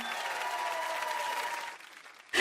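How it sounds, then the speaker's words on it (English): A recorded cheering crowd with applause plays as background, a dense steady wash of clapping and whoops that fades out before a sudden louder burst at the end. "I think I have like cheer background music"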